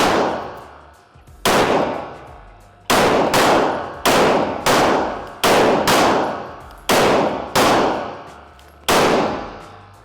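Gunfire at an outdoor shooting range, about a dozen loud, sharp shots in an irregular rhythm, each followed by a ringing clang of rounds striking steel targets, close and with no talk.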